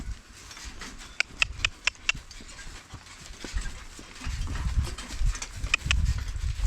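Hooves clop in a steady, sharp series of knocks on hard ground, close by, with low rumbling movement noise building toward the end.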